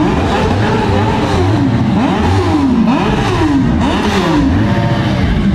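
A loud motorcycle engine revs up and down repeatedly in rising and falling sweeps, steady and close throughout, at a motorcycle festival in Pamukkale.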